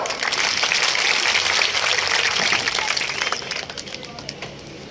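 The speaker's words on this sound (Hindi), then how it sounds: "आदरणीय चौधरी अकरम खान साहब तालियों के साथ।" Crowd applause greets a speaker at a village election campaign rally in Khizrabad, a dense steady clatter of clapping that stays loud for several seconds before thinning out near the end.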